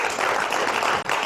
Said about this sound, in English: Nice round of applause for the young.